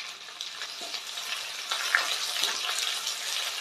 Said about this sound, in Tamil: வெங்காயம் நல்ல கோல்டன் ப்ரௌன் ஆற வரைக்கும் அதுக்கே இருங்க